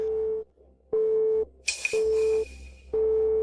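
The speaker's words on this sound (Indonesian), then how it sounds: "Klik, tutup telepon." A telephone busy tone pulses in even half-second beeps, about four in all, with a short crackling click between them as the call is hung up.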